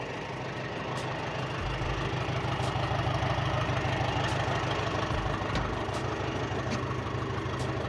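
A Valmet 88 Série Prata tractor engine idles steadily close by, a continuous low rumble with a few faint clicks on top and no talk.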